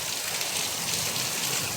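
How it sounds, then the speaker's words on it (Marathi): Steady rain falls with gusting stormy wind in Konkan, a dense, even hiss of drops on surfaces, close and continuous with no voices. "अगदी वादळी वाऱ्यासह पाऊस आहे"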